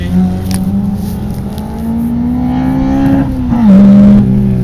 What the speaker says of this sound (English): someone coming down here, yellow car